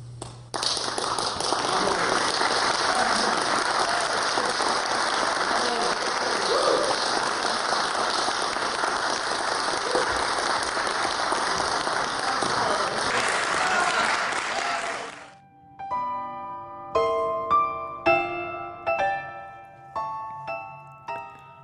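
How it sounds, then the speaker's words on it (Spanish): Thunderous concert-hall applause after a John Cage-style silent performance, a loud, dense roar of clapping that cuts off abruptly and gives way to sparse piano notes. "Al final, un estrendoso aplauso agradece haber permitido la escucha."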